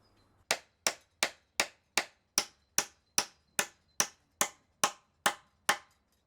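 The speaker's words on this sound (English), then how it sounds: "fix in place using a 6-inch nail" A 6-inch nail is driven into a wooden polytunnel lintel with thirteen evenly spaced, sharp hammer blows, each ringing briefly before the next, close and loud with nothing else in the background.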